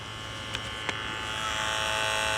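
A steady electric buzzing hum from the ABS pump of a Ford Sierra Estate Mk1 4x4 Ghia 2.8i drones continuously, fairly close, with a couple of brief clicks near the start.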